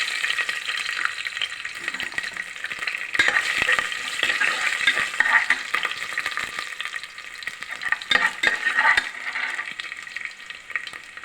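Mustard seeds, cumin and garlic fry in hot oil with a steady, dense crackling sizzle, broken by sharp spits and pops and occasional stirring scrapes, close and fairly loud throughout with no voices.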